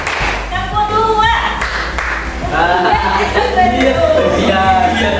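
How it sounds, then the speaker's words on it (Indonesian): A class of children claps hands together in a classroom, bursts of clapping loud and close, mixed with children's voices and a teacher's instructions. "Tepuk tangan 4 kali."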